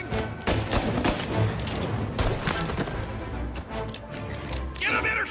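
Gunfire in the Mafia: Definitive Edition video game: a dense, chaotic barrage of shots and crashes rattles on for several seconds amid shouting voices and other action noise.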